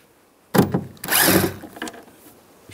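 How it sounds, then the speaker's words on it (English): A power drill with a T20 socket backs screws out from under a 1998-2010 Volkswagen Beetle door panel during a lock actuator replacement, two short close whirring bursts, the second longer. "Underneath, there's three screws. We're going to take those out. Use a T20 socket."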